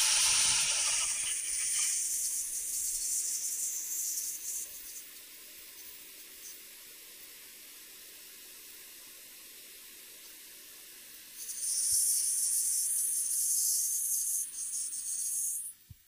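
A Shaper Origin handheld CNC router cutting out a pocket gives a loud, steady high spinning whine for about five seconds. It drops to a quieter hum and then returns loud near the end.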